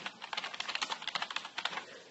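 Quick, irregular keystrokes on a membrane computer keyboard with a modern style, a steady run of soft close-up clicks with no voices.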